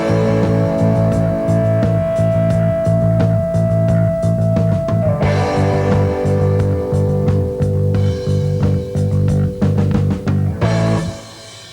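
Full heavy metal band drives a steady, loud chugging groove, bass locked to the hi-hat pattern, with a sustained guitar note over the first half and crashing cymbals later, no talking.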